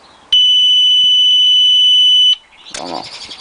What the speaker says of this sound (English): Alarm on.